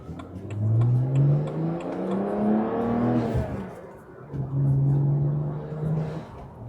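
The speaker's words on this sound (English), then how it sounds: "The turbocharger sounds so good." A BMW 1M's turbocharged engine revs up strongly, drops off with a whooshing blow-off valve release, then rises again, loud and close.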